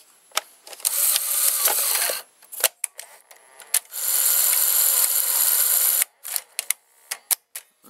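Plastic clicks, rubbing and mechanical clatter as a cassette is pushed into a Sony Beta video recorder, with bursts of scraping and several short sharp clicks near the microphone.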